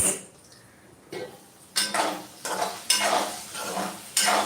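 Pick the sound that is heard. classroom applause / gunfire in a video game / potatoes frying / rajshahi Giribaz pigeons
potatoes frying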